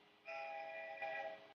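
A short, steady horn-like electronic phone text message tone, like a train whistle, sounding for just over a second before cutting off cleanly.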